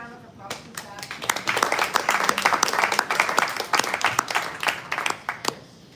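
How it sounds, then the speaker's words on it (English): Applause from a university town hall audience, many hands clapping in sharp, dense bursts that build quickly and then thin out near the end, fairly close and moderately loud. "So give it a big round of applause to Zach."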